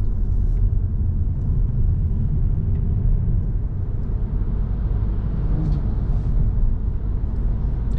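Car engine revving hard while driving, a steady loud low rumble with road and wind noise throughout and no pauses.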